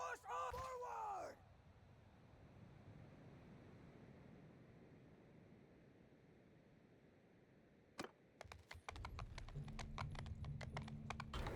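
In Mount and Blade, horses gallop with rapid clip-clop hoofbeats that build toward the end, after a soldier's shouted command at the start and a low battlefield rumble.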